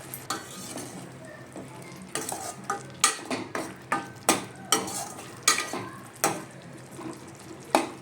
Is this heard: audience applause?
no